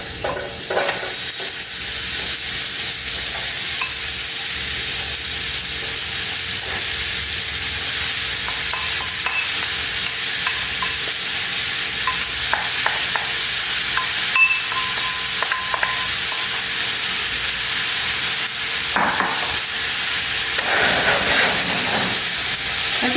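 Carrots fry in a pan with a loud, unbroken sizzle and hiss while being stirred, with occasional scraping and knocks of a utensil against the pan, close and sustained.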